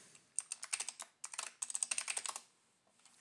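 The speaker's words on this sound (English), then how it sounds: "all we have to do to start our Kali Linux GUI is type kex, put in our password" A password typed on a computer keyboard in two quick bursts of close, crisp key clicks, with a brief pause between them and then near silence.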